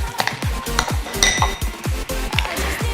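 Tempe steak mixture stirred in a bowl, a quick run of rhythmic clinks and knocks of a utensil against the bowl, close and steady, with no voices.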